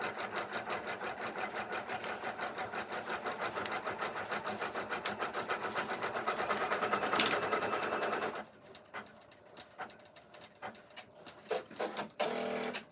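An embroidery machine stitches in a steady rapid mechanical chatter, running alongside a DTF printer in a home craft workspace, then stops, leaving sparse faint clicks and taps.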